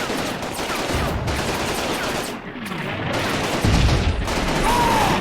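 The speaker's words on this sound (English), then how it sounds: "Also kind of crossfire between the two machine guns." Distant crossfire between two machine guns in the wargame Combat Mission, mountain fighting at Riva Ridge with mortars and artillery around, a dense crackle of overlapping bursts that dips briefly midway, with a heavier thump near the end.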